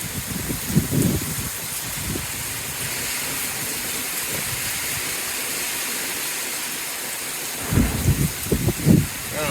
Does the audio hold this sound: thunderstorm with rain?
yes